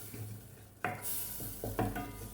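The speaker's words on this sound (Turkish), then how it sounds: "Hemen güzelce unumuzu kavuruyoruz." A spoon scrapes and stirs flour roasting in melted butter and oil in a pan for a sauce. Several close strokes and scrapes over a soft sizzle, with no voices.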